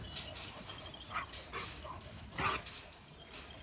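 A Kangal dog gives a few short yips and barks at a distance, spaced irregularly over background noise.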